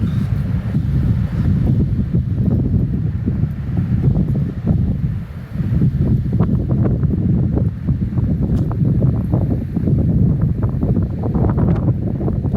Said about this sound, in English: Wind's coming.